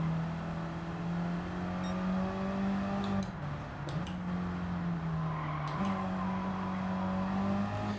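Race car engines in the Gran Turismo 7 video game hold a steady, loud drone with gear-shift pitch changes and brief tire squeals, running continuously with no talking.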